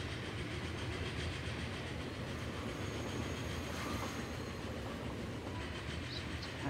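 A train in a transport simulation game rolls along steadily, a continuous low rumble with faint rhythmic clatter of wheels, quiet and unbroken throughout.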